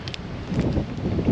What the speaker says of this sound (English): The wind's taking it out of me today.